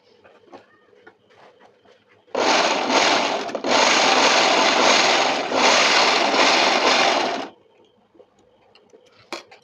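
A sewing machine stitches the neckline strips of a size 42 princess-cut blouse together, running loud and close in one continuous burst of about five seconds with a brief hitch partway, framed by quiet handling before and after.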